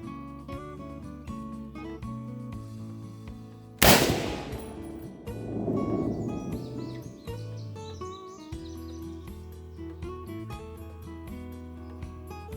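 A single sharp, loud rifle shot cracks out partway through and rings off in a lingering echo, set against steady background music with tonal notes and chirps.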